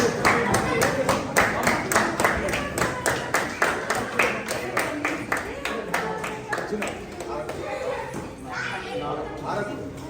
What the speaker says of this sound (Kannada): ಬನ್ನಿ ಚಪ್ಪಾಳೆ